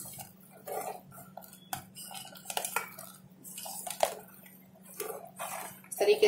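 A utensil stirs vermicelli frying in ghee in a pan with irregular metallic clinks and scrapes, soft and close, over a low steady hum.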